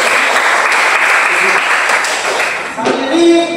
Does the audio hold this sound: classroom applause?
yes